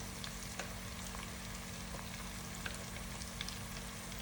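Onions frying in a pan with turmeric and chilli powder, a soft steady sizzle with faint crackles and pops, quiet and continuous throughout.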